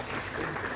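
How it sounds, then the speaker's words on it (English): An audience claps at a seminar on green hydrogen, welcoming Dr. J.P. Gupta, a dense, even patter of many hands lasting under a second, moderately close. "A round of applause for Dr. J.P. Gupta ji."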